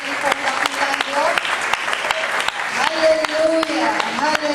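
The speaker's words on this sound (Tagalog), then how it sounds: "Isa pang malakas na palakpak para sa ating pong dakilang Diyos." Congregation clapping loudly during a Pentecostal praise service, sustained applause with a voice or music tones carrying underneath, close and lively.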